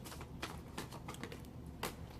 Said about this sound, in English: let me go ahead and shuffle these